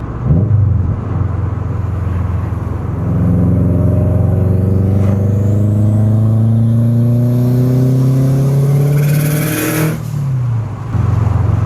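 A manual Subaru WRX making 500 horsepower accelerates hard, its engine note climbing steadily through the revs, loud and close, before a brief pause and a sharp burst of turbo noise as it shifts and pulls again.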